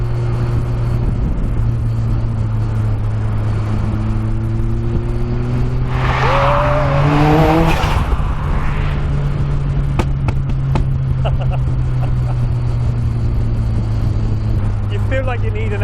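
Revving RX-5 250 car engine with about 100 extra horsepower, a steady loud drone that climbs in pitch during hard acceleration mid-drive, then settles back to a constant cruising note with brief clicks and rattles.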